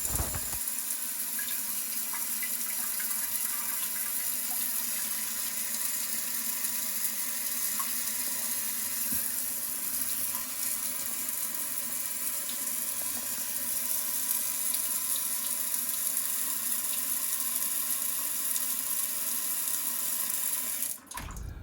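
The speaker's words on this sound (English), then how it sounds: "This just gives you a better look at how powerful it can be, the water jet." A steady, powerful water jet from a Clirass bidet toilet seat sprays and hisses continuously at close range, unchanging throughout, with no voices.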